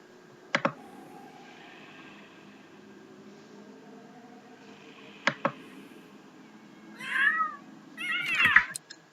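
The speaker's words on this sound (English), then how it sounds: "What's wrong with the cat?" A cat meows a couple of times in The Sims 3, short sharp calls near the end, after a few isolated clicks over a quiet room-like game ambience.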